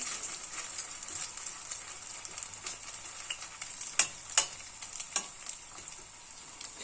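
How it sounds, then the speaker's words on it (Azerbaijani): Potato cutlets fry in hot oil in a pan, giving a soft, steady sizzle with scattered small crackles and a few sharper pops near the middle, and no talking. "Artıq yağ da qızmağa başlayandan sonra kotletləri içərisinə əlavə edirəm."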